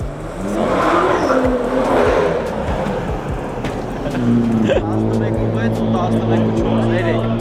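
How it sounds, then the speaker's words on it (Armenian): A car engine drones and revs at close range during a street race in Georgia, with a fast BMW G30 among the cars, steady and loud with shifting pitch; people talk over it. "Սա էլ Գրիգի ավտոն։"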